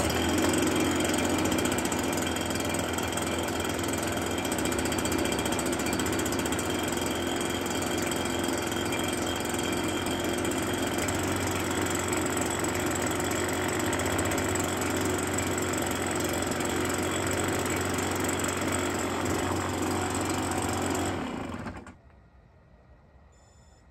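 A small two-stroke engine running on Stihl Premium two-stroke oil idles steadily and loudly for about 21 seconds with a buzzing, rattly mechanical drone, then cuts out abruptly, leaving near silence.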